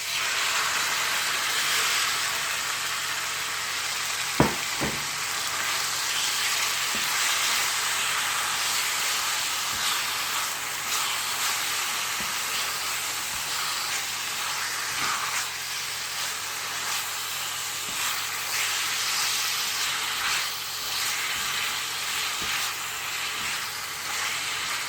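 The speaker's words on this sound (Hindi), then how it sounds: "अब इसमें ऐड कर दूंगी अपना चिकन जो मैरिनेट किया हुआ" Marinated chicken sizzles and hisses loudly in a pan over high heat for chow mein, a steady bright frying hiss with a couple of sharp clicks near the start and no talking.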